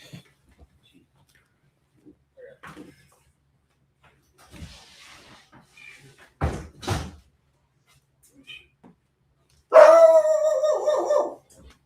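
A dog barks at home, one loud close bark burst near the end after a mostly quiet stretch of faint knocks and brief thuds.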